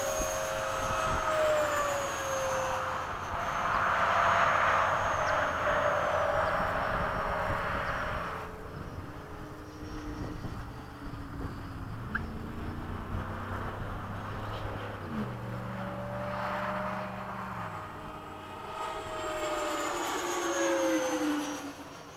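A BAE Hawk jet engine winds down as the throttle is backed off, producing a loud, steady whine and roar that eases to a lower, quieter hum and then swells again.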